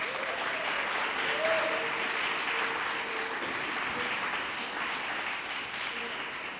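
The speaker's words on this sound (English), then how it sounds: "if I could just have a round of applause for our 50 grant" Audience applause at a community grant press conference fills the room, a sustained, even round of clapping from a crowd that continues steadily throughout with faint voices beneath it.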